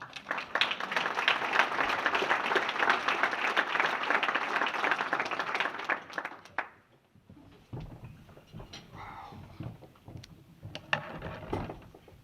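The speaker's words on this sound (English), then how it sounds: "let's also give a big round of applause to Alexis's inductor tonight" A hall crowd gives a Hall of Fame induction ceremony a big round of applause for Anthony Love, a dense sustained wash of clapping that cuts off abruptly, followed by quieter scattered noise and a few stray claps.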